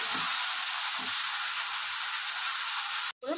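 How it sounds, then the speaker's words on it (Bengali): Chopped tomato and onion fry in a pan for a tomato-coriander dal, giving a loud, steady sizzle with a couple of soft stirring knocks early on and a brief break near the end. "এবার একটু ভেজে নেবো টমেটো আর পেঁয়াজটা"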